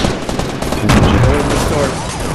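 Rapid gunfire in the Fortnite video game on PS4, a dense burst of shots that swells midway and continues steadily, with a player's voice talking underneath.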